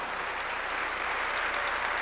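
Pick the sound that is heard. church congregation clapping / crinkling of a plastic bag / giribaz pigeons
church congregation clapping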